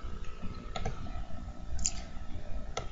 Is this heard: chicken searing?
no